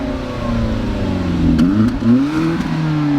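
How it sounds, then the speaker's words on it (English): A Hyundai Genesis on its stock exhaust, a long-abandoned car just brought back to running, idles with a low hum and then revs up and down in a few quick swells, heard fairly close. "How's that stock exhaust sound?"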